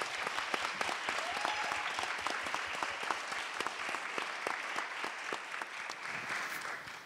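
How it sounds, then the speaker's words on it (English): Steady audience applause fills a panel discussion event, dense overlapping clapping that runs loud and even throughout without any speech over it. "can we get a round of applause?"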